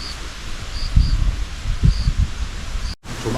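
Faint high insect chirps sound in short repeated bursts over rustling in a bamboo forest on an island, with soft brushing movement close by.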